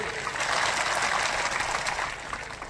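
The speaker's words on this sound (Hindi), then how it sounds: "आप सबसे निवेदन करना चाहता हूं कि माननीय तुलसी सिलावट जी के लिए जोरदार ताली बजा के स्वागत करें।" A crowd at a rural village groundbreaking ceremony in Ambaja claps to welcome a minister, a dense, continuous burst of many hands that swells briefly and then eases slightly.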